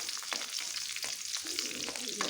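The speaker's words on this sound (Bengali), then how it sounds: "এখন একটা শুকনো লঙ্কা চিড়ে তেলে দিয়ে দিচ্ছি। একটু নেড়ে দেবো" A slit dried red chili fries in oil alongside garlic for a fenugreek leaf dish, with a faint, steady sizzle and a few soft stirring scrapes.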